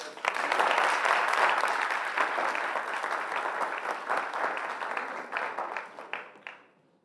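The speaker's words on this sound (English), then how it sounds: "Final round of applause for yourself." Audience applause at the close of an open lecture, a dense, sustained round of clapping from a large seated crowd that holds steady and then thins out and fades to silence near the end.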